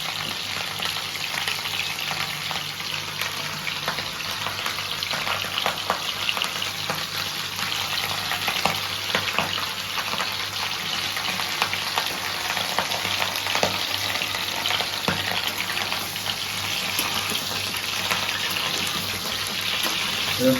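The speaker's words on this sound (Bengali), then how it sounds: "এই গরম তেলের উপর ফুলকপিগুলো দিয়ে দেওয়া হচ্ছে।" Cauliflower pieces sizzling in hot oil for an aloo phoolkopi dish, a loud steady fry with crackling and occasional stirring throughout, no talking.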